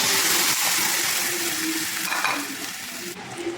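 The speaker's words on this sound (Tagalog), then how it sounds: "Saka po natin sasabawan." Broth pours into a pot of spicy macaroni soup with a continuous hissing, splashing wash that tapers off toward the end, with no talking.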